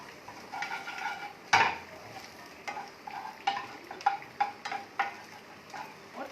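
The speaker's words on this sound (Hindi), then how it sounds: "ये स्लाइस किया हुआ मशरूम, और थोड़ा सा इसको अच्छे से हिला लेते हैं" Sliced mushrooms for a pasta sauce are stirred in a hot pan with a metal utensil: a loud opening clank, then a run of sharp scrapes and taps against the pan over a soft sizzle, close up.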